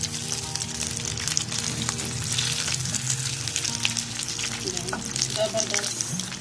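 Flour-coated chicken pieces for a zinger burger fry in hot oil over a medium flame, giving a steady dense sizzle and crackle throughout with small popping bursts and no voices.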